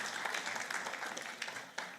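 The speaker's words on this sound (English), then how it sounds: "Give Namra a round of applause" Applause from an audience at a taxpayer appreciation awards ceremony in Swakopmund, Namibia, a dense, steady wash of many hands clapping with a sharper burst near the end.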